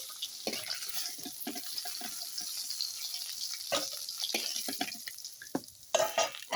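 Onion and chili hitting a hot frying pan after fried fish has been lifted out, giving steady sizzling with scraping and stirring clatter, fairly close, no voices.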